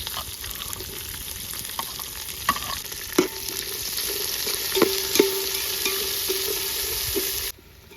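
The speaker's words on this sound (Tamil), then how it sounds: "வெங்காயம் வந்து பிரியாணிக்கு இந்த அளவுக்கு நல்லா சுருள செவந்த மாதிரி அந்த கோல்டன் கலரில் வருது பாரு இந்த அளவுக்கு வதங்கணும்" Sliced onions fry steadily in oil for mutton dum biryani, browning toward golden, with a continuous close sizzle and occasional stirring clicks that end abruptly.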